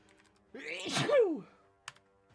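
A single short sneeze, fairly close, followed by a brief knock or click and then quiet.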